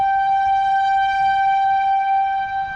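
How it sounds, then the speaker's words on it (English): A loud, steady tornado siren wails on a sustained tone throughout, holding pitch with only a slight dip at the end, heard close by at a campground. "The tornado siren's right over here."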